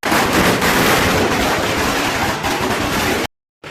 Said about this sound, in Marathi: फटाक्यांच्या गजरात आपल्या पालखी सोहळा